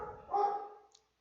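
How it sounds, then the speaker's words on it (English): A dog gives a single short bark at moderate distance, a brief clipped yap that fades quickly into silence, with no talking. "Oh, the dog."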